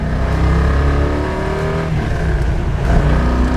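A 1970 Plymouth 'Cuda AAR accelerating hard in second gear, its V8 engine roaring loud and close from inside the car with a steady climbing rev throughout.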